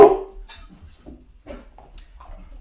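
Dogs encountered by two people out walking, giving a few short barks and whimpering yips, moderately close and intermittent, with faint background noise between the calls.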